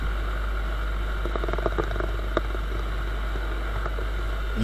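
Viper 200 motorcycle ridden at full throttle, a steady loud engine drone under heavy wind buffeting with faint ticks and clicks, heard from the rider's position.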